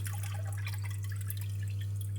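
Cooked wonton noodles are lifted out of cold water, and water drips and trickles back into it in small, scattered splashes over a steady low hum.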